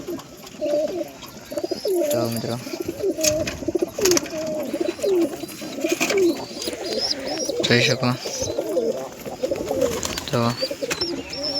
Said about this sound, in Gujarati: બધા કબૂતર અંદર પકડીને દેખાડું